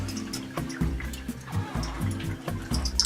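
Water is poured into a pan while making Taco Bell-style red sauce, a short, quiet, uneven splashing and gurgling lasting a few seconds.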